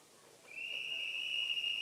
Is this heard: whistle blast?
yes